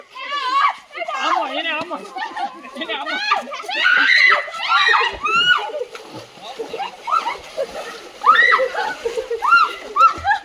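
Children splashing and playing in clean water during Dhuleti celebrations, with repeated splashes, shrieks and excited kid voices chattering close by throughout.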